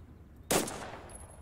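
A single 7.62 rifle round fires in the shooter game Total Conflict: Resistance, a sharp loud crack that fades into a short decaying echo, heard alone.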